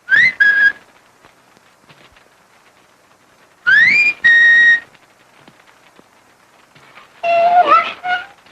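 Three bursts of clear, loud whistling, each a rising note followed by a held tone, separated by quiet pauses.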